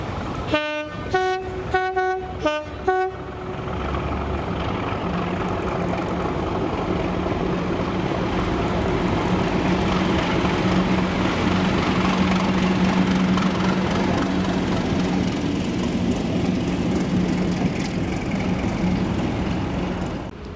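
A Class 37 diesel locomotive in Scotland, running light, sounds its horn in several short toots, then rumbles steadily past with a loud, sustained engine drone.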